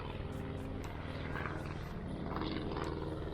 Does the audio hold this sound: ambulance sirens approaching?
no